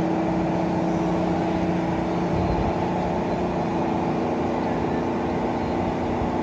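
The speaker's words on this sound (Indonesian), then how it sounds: "Mesinnya dipanasi" Harapan Baru bus engine warming up in the garage, a steady droning idle with a low rumbling throb, close and constant, no voices heard.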